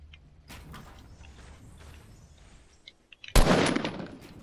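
Video game gunfire: faint scattered shots and clicks at first, then a sudden loud burst of rapid automatic fire near the end.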